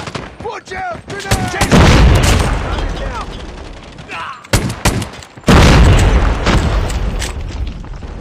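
A grenade blast in the Call of Duty video game, a loud booming burst amid surrounding gunfire, followed by a second heavy explosion that lingers with rumbling debris, while voices call out over the combat.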